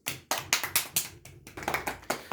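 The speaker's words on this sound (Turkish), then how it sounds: "Hadi bir alkış yapıyoruz" Several rounds of quick, uneven handclaps from a small group of children, sharp and close, bursting in short clusters for a couple of seconds.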